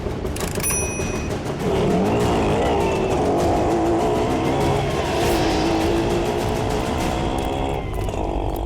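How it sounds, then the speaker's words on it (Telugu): An auto rickshaw speeds off in a hurry during a chase, its engine droning loud and steady with rising revs throughout and no talk. "ఆటో పోనివ్వండి త్వరగా"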